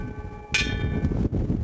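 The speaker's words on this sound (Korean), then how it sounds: "이 느림의 종이 울리면 오늘 여행이 시작이 됩니다" A single bell strike rings out clearly on Cheongsando island, South Korea, its bright tone hanging over steady background rumble and murmur for about a second.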